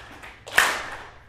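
At a seminar presentation, the room begins clapping together: one strong, echoing clap lands in the middle, and a second starts right at the end, with a hushed room between them.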